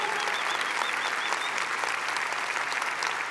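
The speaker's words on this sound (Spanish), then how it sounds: "Dale fuerte a, a tu Dios el aplauso" Church congregation clapping loudly during a sermon, a dense, continuous wash of applause with a few whoops rising through it.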